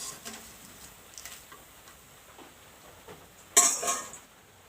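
A metal scoop lifts fried chanachur, a crunchy Bengali snack mix, out of hot frying oil, with faint scattered ticks before one louder clattering scrape and a brief sizzle near the end.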